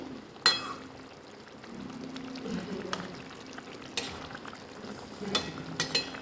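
A pan of fish curry with coriander bubbles at a low simmer, a soft steady frying hiss broken by several sharp clinks and knocks of a utensil against the pan.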